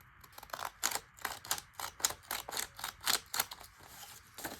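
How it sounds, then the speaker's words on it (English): Scissors cut a torn strip off a piece of green paper, making a quick run of about a dozen crisp, close snips in an uneven rhythm, quiet and alone. "So I'm gonna just eye it up and cut that off."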